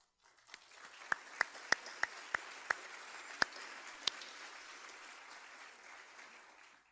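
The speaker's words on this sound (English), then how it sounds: "I want to give a round of applause to each of you" Audience at a graduation initiative symposium applauds, beginning with a handful of sharp, separate claps before a soft, steady patter of clapping in a quiet room.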